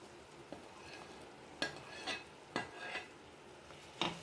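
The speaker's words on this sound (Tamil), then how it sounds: "போட்டு இது நல்லா கிளறட்டு." Oil-fried grapes are stirred into a grape pickle mixture, a quiet close scrape of a spoon on a vessel repeating every second or so over a faint background, no talk.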